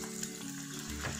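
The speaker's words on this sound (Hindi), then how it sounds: "ये देखिए, हम अपने रोल्स को डाल देंगे फ्राई होने के लिए।" Chicken spring rolls fry in hot oil, giving a steady, close sizzle with a low bubbling rise near the end, no voices over it.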